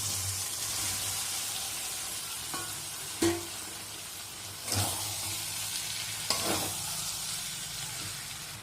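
Jackfruit and potato sizzle steadily in a hot pan for a spicy jackfruit and prawn dish, a dense continuous frying hiss broken by a few sharp stirring clatters.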